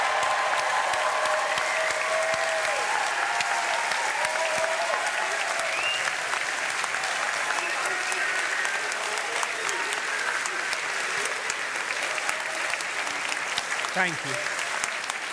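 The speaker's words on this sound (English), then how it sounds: "can I have a large round of applause just to make sure everyone knows what we're looking for here?" A large hall of graduands and guests at a university summer graduation ceremony gives a long, sustained round of applause, steady and loud, with a voice briefly speaking near the end.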